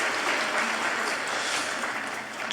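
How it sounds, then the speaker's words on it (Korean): A church congregation applauds to welcome an engaged couple during a Sunday worship service, producing a steady, even wash of many hands clapping at moderate distance that holds throughout, with no talk over it. "한번 박수로 우리 환영해 주시기 바랍니다"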